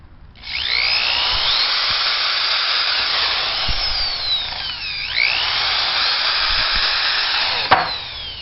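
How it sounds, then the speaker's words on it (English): A power drill drives screws into a wooden swing set with a loud, sustained whine whose pitch dips and recovers as the screw bites. A few faint knocks sound underneath, then the motor stops abruptly near the end. "how long or how fast can I get these last 6 screws in?"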